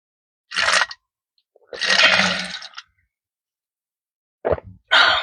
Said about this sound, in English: I know y'all can hear me drinking water and everything